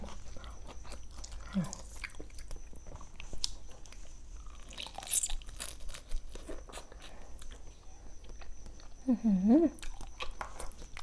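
Someone eats a crunchy Thai mixed seafood papaya salad with shrimp, squid and whole blue crab, making soft, close, intermittent bites, crunches and chewing, with brief vocal sounds in between.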